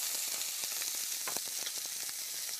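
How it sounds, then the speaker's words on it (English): Onions frying in hot oil in a pan give a steady, close sizzle with small crackling pops throughout, and no talking. "I've heated the oil in a pan, and I'm going to fry the onions"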